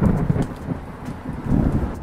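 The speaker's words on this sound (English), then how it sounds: "turn up the volume a little bit so you can hear the background thunder." Background thunder from the video game Ledger City, a low rolling rumble that swells and fades twice, with a steady rain-like hiss underneath and no speech.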